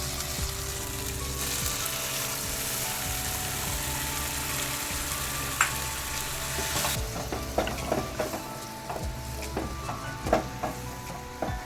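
Coconut milk poured into a sizzling pan of Bengali giant prawn rezala, with steady frying hiss, a few spoon clinks and stirring scrapes toward the end, close and moderately loud.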